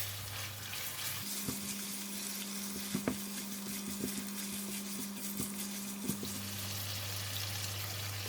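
Noodles frying in a wok with light soy and oyster sauce, a soft steady sizzle with a low hum and a few brief clinks of stirring, fairly quiet, no talk.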